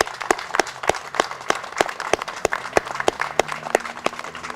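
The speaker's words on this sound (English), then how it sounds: "I would just like for everyone to applaud all of our veterans here" Audience at a veterans' memorial ceremony applauding, sharp individual claps standing out over a steady wash of clapping from a crowd, fairly close and continuous throughout.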